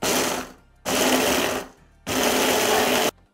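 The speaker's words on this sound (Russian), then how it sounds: "Выкладываю печенье в измельчитель" Electric food chopper grinding cookies into crumbs, three loud bursts of harsh whirring, each about a second long, separated by short pauses.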